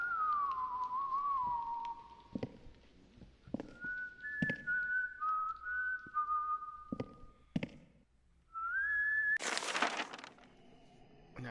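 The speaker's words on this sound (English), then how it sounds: "And I hear him whistling like so close by." A character whistles a wandering tune in the White Day horror game, set in a school at night, the whistle fairly close and broken into phrases, with sharp cracks and thuds in between and a loud burst near the end.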